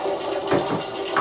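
Liquid being dumped out during beer brewing: a short, steady wash of pouring water, close and moderately loud, with no other sounds over it.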